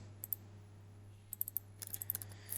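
Light keystrokes click on a computer keyboard in short clustered bursts during a quiet desktop task. The typing is faint and close, over a steady low electrical hum.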